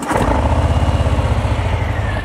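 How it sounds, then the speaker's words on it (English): A Harley Davidson Fat Bob motorcycle engine catches and settles into a loud, close, lumpy idle with a steady pulsing throb and a clattery mechanical undertone. "Let me start the motorcycle so you can hear it."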